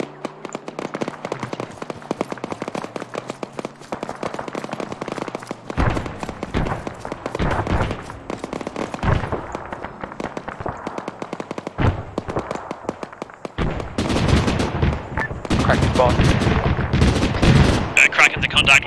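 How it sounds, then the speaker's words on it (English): Heavy automatic fire from a BMP armored vehicle in the ARMA 3 military game, rapid loud bursts and sustained rattling cannon shots with thuds, growing denser toward the end, under radio chatter. "Alpha Apollo, we're taking heavy fire from BMP."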